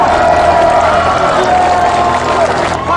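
A large outdoor crowd at a South Korean presidential campaign rally for a candidate, applauding and cheering in a dense, steady wash of clapping and shouts that runs the whole stretch, with a voice over a loudspeaker woven in.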